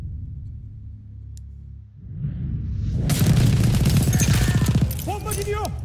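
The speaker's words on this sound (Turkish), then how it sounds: "Bomba gidiyor!" A bomb explodes in the Battlefield 1 Domination match on the Suez map: a loud, dense burst of blasts and crackling debris rises after a quieter low rumble, with gunfire and a short rising tone near the end.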